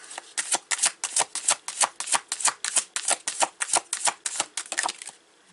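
Chakra cards shuffled in rapid riffling bursts, about twenty crisp slaps in a steady rhythm, close and fairly loud with no talk, ending in a brief quieter rustle.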